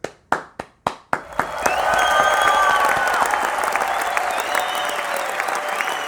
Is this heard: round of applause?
yes